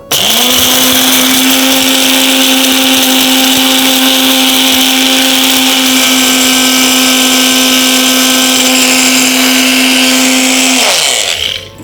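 An electric mixer grinder powders a dry herbal mix of asafoetida, black salt, dry ginger, black pepper and long pepper. It gives a loud, steady, high motor whine for about eleven seconds, then winds down to a stop, with no talking.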